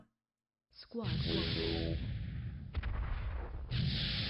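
Heavy artillery fire rumbles and booms in the real-time strategy game Dark Reign, a loud sustained barrage of blasts after a brief silent start, with a voice speaking over the battle.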